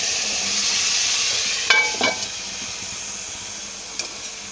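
Onions cooking with a pinch of turmeric in a covered pan for a Telugu country-chicken egg curry, giving a steady soft sizzle throughout with a few brief clinks and stirring noises, with no talk.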